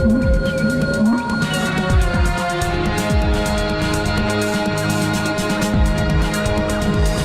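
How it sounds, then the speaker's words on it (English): Sperm whale vocalizations fill the water continuously, steady streams of rapid clicks layered over tonal calls and deep rumbling, loud and unbroken with no voices. "sperm whales make a lot of noise"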